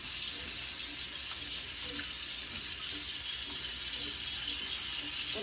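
Water runs steadily from a kitchen tap, a continuous hissing rush with no break, heard close and alone with no talking.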